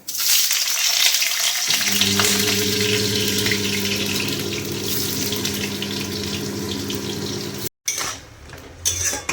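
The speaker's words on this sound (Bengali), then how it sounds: "সব মশলাপাতি দিয়ে দিয়েছি পেঁয়াজ টমেটো লঙ্কা আদা বাটা জিরে ধনে সব হলুদ যা যা দিয়ে দিয়েছে এবার একটুখানি কষবে" Onion, tomato, chilli, ginger paste, cumin, coriander and turmeric sauté in a kadai for a plain fish curry, with a continuous close sizzle and a steady hum joining in. A brief cutout comes near the end, followed by light utensil clatter.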